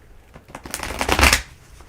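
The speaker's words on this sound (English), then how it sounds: "My turn to shuffle." A deck of tarot cards being shuffled indoors, a quick burst of riffling flutter that builds to a close, crisp peak and then stops, alone without speech.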